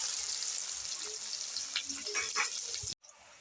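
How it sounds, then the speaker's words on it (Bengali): Chopped onions frying in oil for chili chicken make a steady, close, hissing sizzle that cuts off abruptly near the end, leaving a faint residual hiss. "পেঁয়াজ কুচিয়ে দিয়ে দিচ্ছি"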